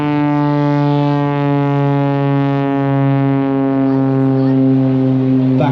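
A Pitts Special aerobatic plane flies a low side slip at an airshow, giving a loud, steady propeller-engine drone with strong harmonics that slowly shifts in pitch, continuous throughout.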